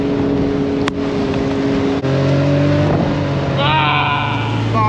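A UTV engine revs high and steady as the machine churns through desert mud, loud and close, with wind buffeting and a brief pitch rise near the end.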